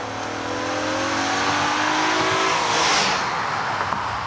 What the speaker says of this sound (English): this drivetrain practically shrieks like a Formula One car when you open it up.